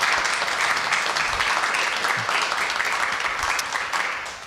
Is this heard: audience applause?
yes